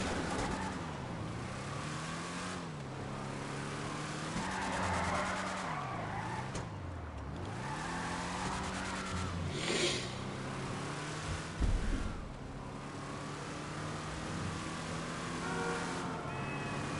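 A car in GTA V revs hard with the handbrake held, engine pitch rising and falling in repeated surges, with tire squeal and skidding noise running throughout at close range.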